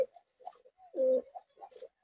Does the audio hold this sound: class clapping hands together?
no